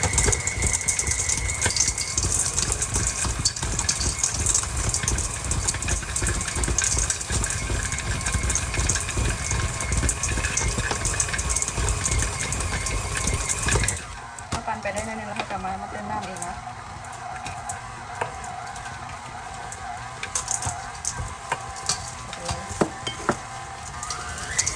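A kitchen blender grinds pork with pork skin and water for Lao pork sausage, a steady loud motor whir that drops in pitch and strains partway through as the mixture thickens.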